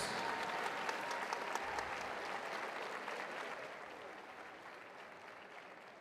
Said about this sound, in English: give a round of applause to these amazing athletes